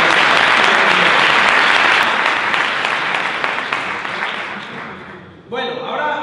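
An audience at a talk on starting a business bursts into loud, dense applause that holds strong for several seconds, then fades and thins out before a brief final flurry of clapping.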